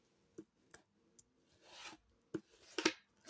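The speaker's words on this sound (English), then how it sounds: "I'll use the back of my scissors" Back of a pair of scissors scoring fold lines on paper for an envelope: short, quiet scraping strokes and taps, including a longer drawn rasp in the middle, close and isolated.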